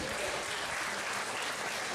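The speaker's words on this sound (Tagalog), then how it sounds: "Palakpak." Church congregation applauding steadily during a sermon, a dense continuous wash of clapping that fills the whole moment with no voice over it.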